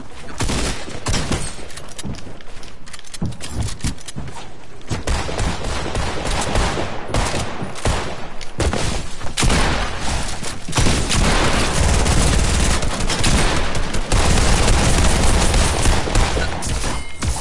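Loud, dense gunfire in the Fortnite video game, rapid bursts and machine-gun-like volleys with shattering impacts running nearly continuously, with brief voices underneath.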